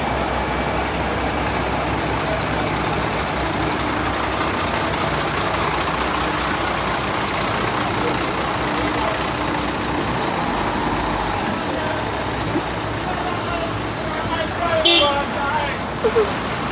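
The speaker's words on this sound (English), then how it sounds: "it caused a pileup of traffic here along Maho Drive White Wing" Heavy road traffic of trucks and cars backed up in a pileup along Maho Drive near Hagley Park Road, a steady dense rumble of idling engines close by with a brief horn toot near the end.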